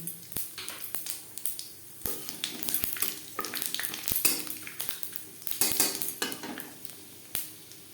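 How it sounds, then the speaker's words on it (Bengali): Bay leaf and panch phoron spices frying in oil in a kadai, used earlier for frying fish roe: a low sizzle with scattered crackles and sharp clinks of a metal spatula against the pan. "ডিম ভেজে নেওয়া কড়াইতে আবারও তেল দিয়েছি ফোড়নে দিয়ে দেব একটা তেজপাতা পাঁচ ফোড়ন"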